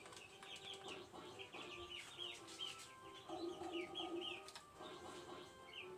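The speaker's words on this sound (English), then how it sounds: "If you hear, like, chirping, I got chicks down here." Soft, busy chirping and clucking of chicks, steady and fairly quiet, with occasional faint flutters and no talking, in the video game Mario + Rabbids Kingdom Battle.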